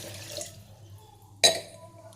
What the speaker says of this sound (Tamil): இதில் ஓப்பன் பண்ணிக்கிட்டு தண்ணி ஊற்றிக்கணும்.